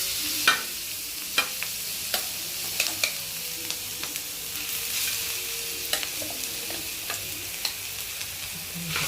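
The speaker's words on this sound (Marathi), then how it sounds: "आता तव्यावर तेल टाकून खरडा छान भाजून घ्यायचा आहे" Coarsely ground green chili kharda with coriander roasting in oil on a flat griddle, a steady close sizzle broken by sharp scraping and stirring clicks from a spatula at irregular intervals.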